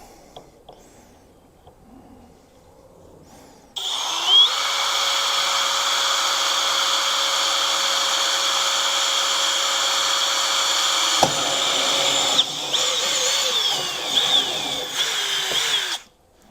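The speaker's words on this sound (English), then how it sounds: "My drill's hitting the edge here, so I can't go all the way through." A power drill whirs loudly and steadily for several seconds, with a brief stop and restart near the end, after a quiet start.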